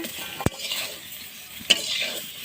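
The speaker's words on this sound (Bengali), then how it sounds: "হালকা ভেজে নেব দেখুন তরকারিগুলি ভেজে নিয়েছি" Vegetables for a spiny gourd (kakrol) dish fry lightly in a pan with a soft, steady sizzle, broken twice by sharp knocks of a utensil against the pan.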